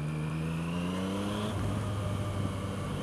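A Yamaha MT-09 motorcycle engine revs on a test ride, a smooth climbing tone that peaks and then drops back into a lower steady drone, moderately loud and close.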